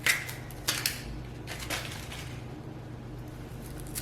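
Dry papery skin being peeled off a large sweet Maui onion, a few crinkly crackles near the start and around the first second and a half, then quieter rustling under a low steady room hum.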